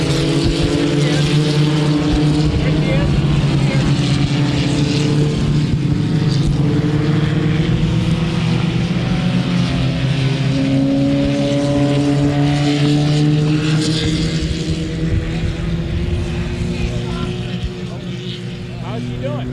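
A race car droning steadily through turns on a track, a loud sustained engine tone with shifting pitch under continuous commentary-style talk, easing slightly toward the end.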